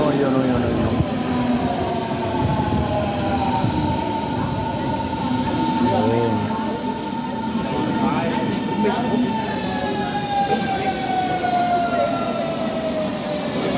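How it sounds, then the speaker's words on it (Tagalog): S-Bahn train S7 to Ahrensfelde pulling into a Berlin station: a steady loud rumble and screech of wheels and brakes, with people talking over it. "Ayan na ang train ng Ahrensfelde."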